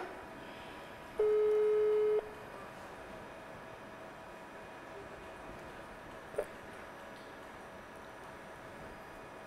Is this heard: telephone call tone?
yes